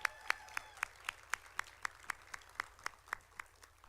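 At a college women-in-business conference, an audience claps after a dance performance in a slow, regular unison beat of sharp claps, about four per second, fairly faint and distant with no voices over it.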